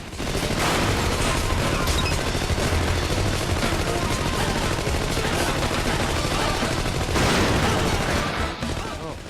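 Dense gunfire and explosions pour continuously from the arcade shooter Wolf of the Battlefield: Commando 3, loud and sustained, with a voice speaking over the action.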